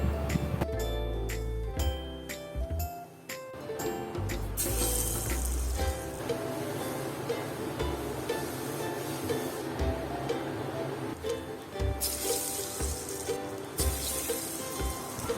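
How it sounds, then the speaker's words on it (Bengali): Chana dal pakoras frying in hot oil over a medium-high gas flame, a loud continuous crackling sizzle with bursts of bubbling as the dough balls drop in, close by and without talking. "ডালের গোলাগুলো তেলে ছেড়ে দেওয়ার পর গ্যাসের আঁচ মিডিয়াম টু হাই করে পাকোড়াগুলো ভেজে নেব"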